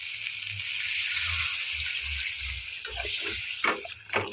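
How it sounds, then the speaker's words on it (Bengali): Water is poured into spiced masala frying in oil for a raw banana kofta curry, a steady close rush and sizzle with low bubbling that breaks into splashy sloshes near the end. "এখানে আমি এখন দিয়ে দিচ্ছি জল"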